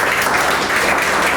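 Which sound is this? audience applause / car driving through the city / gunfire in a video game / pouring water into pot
audience applause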